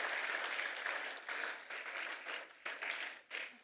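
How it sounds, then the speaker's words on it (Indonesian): A graduation ceremony crowd at Politeknik Sorowako gives a round of applause, fairly quiet and distant, with dense clapping that surges and dips in waves before tapering off. "Tepuk tangan dulu sekali lagi untuk YPS."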